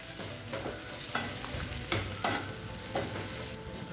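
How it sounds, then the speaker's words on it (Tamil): Ground spice powder sizzles gently in a pan on low heat while being stirred for bisibelebath, a soft steady frying hiss with scraping stir strokes, close and quiet. "ஸ்லோலே வச்சுட்டு லேசாக வதக்கிக்கலாம்."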